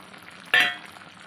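Chicken frying in a pan with coconut, masala and onion for a restaurant-style chicken fry, a short sudden sizzling burst as it is stirred, loud for a moment then fading back to a faint background hiss.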